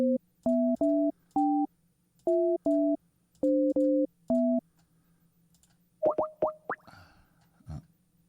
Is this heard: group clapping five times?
no